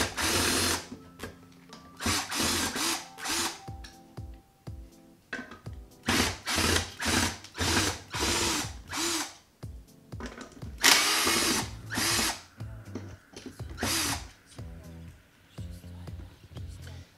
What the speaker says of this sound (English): So we're gonna have to unscrew these